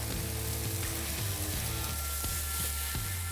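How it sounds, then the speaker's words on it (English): Onion and tomato sautéing in a hot pan, a steady close sizzle and crackle running throughout with no talk over it. "So after you saute your vegetables down for about 2 minutes"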